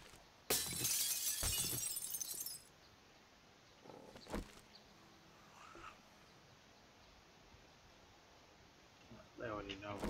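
Glass shatters with a loud, bright crash early on in the survival game Darkness Falls, followed by scattered smaller tinkles and a quieter second impact, then low ambient noise.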